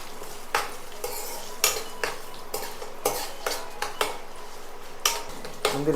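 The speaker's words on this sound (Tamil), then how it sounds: "முந்திரி வந்து இந்த மாதிரி லைட்டாக கோல்டன் ப்ரௌனில் வறுத்துட்டோம்." Cashews roasting golden brown in a pan of tempering with asafoetida for ven pongal, a spoon clinking and scraping the metal pan in a regular rhythm of sharp hits over a soft continuous sizzle, close by.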